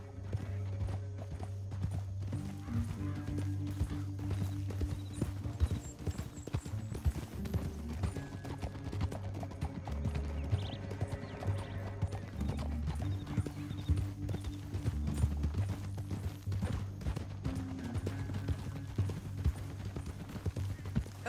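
Horses galloping in Red Dead Redemption 2, a steady, fairly faint drumming of hooves that runs throughout, with occasional whinnies over a low droning background.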